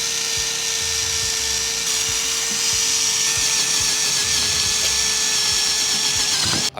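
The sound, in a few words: sanding wheel smoothing a powder-coated car wheel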